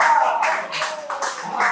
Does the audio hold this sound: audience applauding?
yes